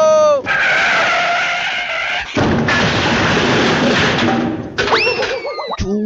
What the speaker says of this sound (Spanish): ya chocaste el carro